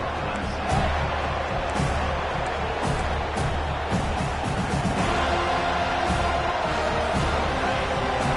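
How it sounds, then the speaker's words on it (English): Stadium crowd at a Clemson at Florida State college football game keeps up a loud, continuous roar and cheer throughout, with scattered whoops rising over the dense wash of noise. "This crowd bringing the energy and noise early."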